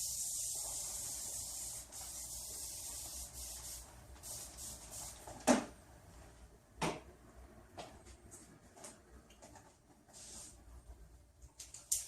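A spray bottle mists absorbent water, mostly water mixed with PPT and LPD, over hair during a salon hair treatment. A few short, quiet spritzes stand out against faint rustling and handling.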